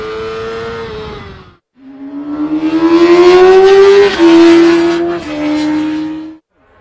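A racing motorcycle accelerates hard on a fast track, engine note climbing through the gears in long rising sweeps with brief drops at each shift, loud and close, with no talk.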